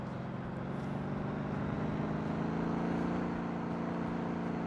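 Steady engine drone of a car in the driving game Motor Town after a manual gear shift, a continuous low hum with mild harmonic lines, holding even and close throughout with no talking.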